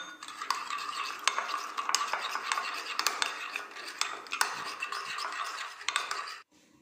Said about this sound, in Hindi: इसमें जाएगा चिली फ्लेक्स, ओरिगैनो और हम इसे मिक्स कर लेंगे